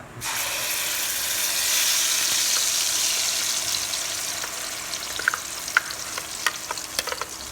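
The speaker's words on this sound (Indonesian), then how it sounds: "Nah, ini minyaknya udah panas, kita tumis dulu bumbunya ya" Ground spice paste hisses as it hits hot oil in a pan and is stirred for a fish-head dish. A loud, steady sizzle runs throughout, and sharper scrapes and clicks from the stirring utensil come through toward the end.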